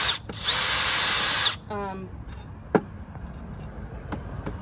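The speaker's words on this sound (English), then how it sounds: "my drill with the wire brush head on it" A power drill with a wire brush head whirs loudly for about a second and a half with a harsh scraping hiss, stripping rust and flaking paint, then stops, leaving quiet clicks and a sharp knock.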